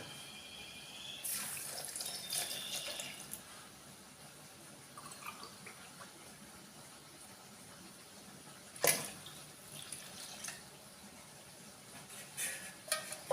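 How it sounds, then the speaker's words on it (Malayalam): Raw mango shake, blended from milk, sugar and crushed cardamom, is poured into a vessel, giving a steady liquid splashing and trickling that stays fairly faint, with a brief sharper clink partway through. "അത് പാത്രത്തിലോട്ട് ഒഴിക്കുകയാണ്"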